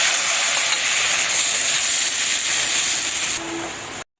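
Spice masala for a home-raised Muscovy duck curry sizzling in a hot pan, a loud continuous hiss close by that dips slightly near the end before cutting off.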